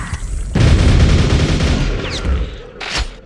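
Heavy gunfire from the video game Quake, 25th Anniversary Edition, a loud dense burst of shots rumbling for about two seconds, then a brief sharp hiss and a second short blast near the end.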